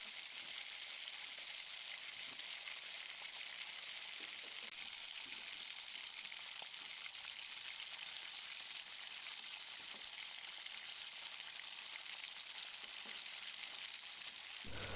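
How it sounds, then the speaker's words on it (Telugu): Tomatoes fry in a pan with turmeric and are stirred, a soft, steady crackling sizzle with occasional scraping stirs, close but fairly quiet, continuing evenly with no talk. "పసుపు వేసి కొంచెం బాగా తిప్పిన తర్వాత"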